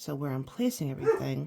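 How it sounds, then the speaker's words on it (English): A dog boofs outside in short repeated woofs, heard under a person who keeps talking nearby over the barking. "That's my dog."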